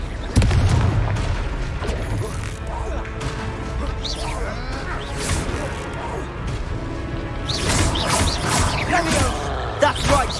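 Confringo spell explosions in Hogwarts Legacy, a heavy boom near the start followed by crashing, whooshing bursts of impact, growing denser and louder toward the end amid combat noise.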